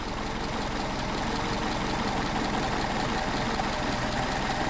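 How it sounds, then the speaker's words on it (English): A Harrison engine fitted with a Solex carburetor idles steadily at a low, rough rumble, loud and close, the idle faltering slightly while the mixture screw is turned, with no one talking. "Idle is faltering."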